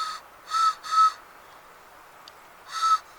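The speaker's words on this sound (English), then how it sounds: "and a whistle" A small camp whistle from a bushcraft kit gives three bright, high toots, two close together and one after a pause, each short and fairly near, over a quiet background.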